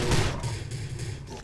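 A heavy booming blast of a C4 explosive in the video game Prey, with a sharp onset and a long rumbling low tail, loud and alone.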